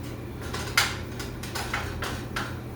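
Ginger, garlic and the white part of green onion stirred in a pan: a utensil scrapes and taps the pan in several close, irregular strokes over a soft background hum, with no talk.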